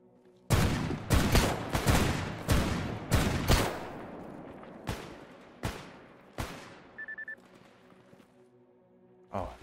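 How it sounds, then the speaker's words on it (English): Gunfire in S.T.A.L.K.E.R. GAMMA: a string of sharp, loud shots with bullets landing nearby, spaced irregularly and fading toward the end over a quiet outdoor backdrop. "Why is there bullets landing here?"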